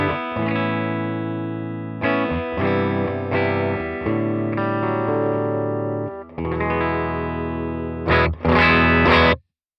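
Electric guitar played through a Quad Cortex US DLX amp model in vibrato mode, strummed chords ringing with slight grit and a pulsing shimmer, several sustained phrases with brief gaps and brighter stabs near the end, no voices.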